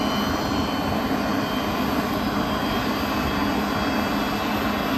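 A jet aircraft flying with its engine cover left on, giving a continuous, loud broadband roar that stays steady throughout without any talk.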